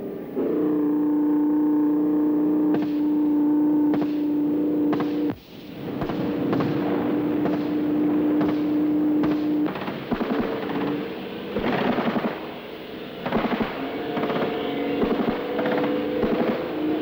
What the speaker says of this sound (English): Machine guns also spatter imaginary infantry positions.